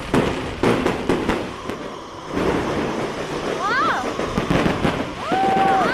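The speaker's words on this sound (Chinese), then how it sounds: "烟花放炮了。" Fireworks burst in a rapid series of sharp cracks and booms, with faint whistling streaks rising near the end as people talk nearby.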